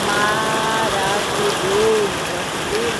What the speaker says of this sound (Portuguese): Olha o barulho da chuva, meu povo!